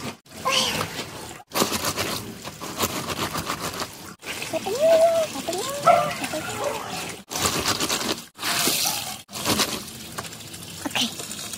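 Water running right beside the microphone outdoors in Mexico City, a loud trickling and splashing that continues through the whole stretch with brief gaps, under and between people talking.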